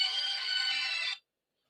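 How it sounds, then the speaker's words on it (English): Electronic phone ringtone, bright and steady, sounding alone for about a second before cutting off abruptly into silence. "I'm getting a phone call"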